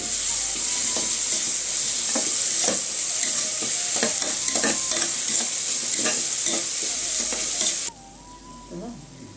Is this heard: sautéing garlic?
yes